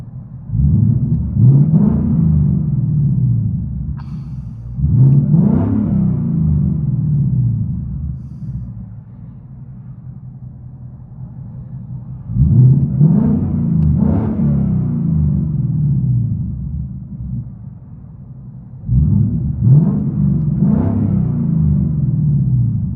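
Straight-piped 2020 Ford Mustang GT with a 5.0L V8 and two X-pipes, heard from inside the cabin: four deep, loud revving surges rise and fall over a steady rumbling idle.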